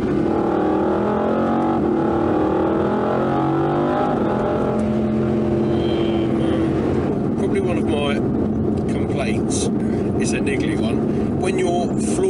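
A Mercedes-AMG GT R Pro engine roars under full throttle, a loud, sustained, rising drone with shifting pitch that continues throughout, with the driver talking over it.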